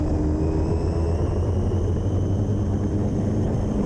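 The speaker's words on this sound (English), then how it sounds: "you'll hear me punch full throttle" A fast rock crawler runs at full throttle, its engine giving off a continuous loud, dense rumble with a steady whine that stays flat and unbroken for several seconds, close by.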